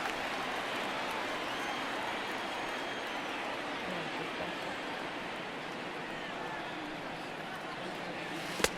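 Steady, dense crowd roar fills a packed Yankee Stadium in the baseball video game MLB The Show 19, holding at an even level throughout with a sharp click just before the end.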